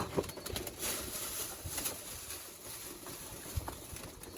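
Pigeons coo softly at feeding time amid a busy wash of low rustling and faint background noise, with a few brief louder thumps that could be wingbeats.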